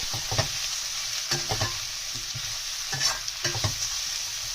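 Carrots and mushrooms stir-frying in a pan for street-style veg chowmein, with a steady sizzle and repeated scraping stirs of the spatula, close and fairly loud, no talking.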